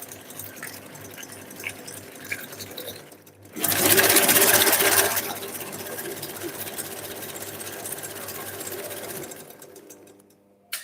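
An electric hand mixer whisks egg whites for meringue cookies, a steady close whirring drone that swells louder for a couple of seconds, then settles into a lower continuous hum before cutting off.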